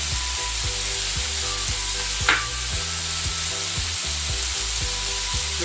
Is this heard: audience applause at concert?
no